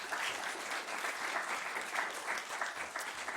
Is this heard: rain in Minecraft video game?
no